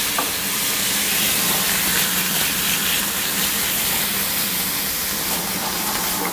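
A splash of white Chablis wine hits a hot pan of cleaned, deveined shrimp, sending up a loud, steady hiss and sizzle that holds evenly throughout, close up and without talk.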